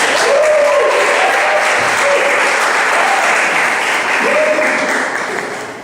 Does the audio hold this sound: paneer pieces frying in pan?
no